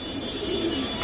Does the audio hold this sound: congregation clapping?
no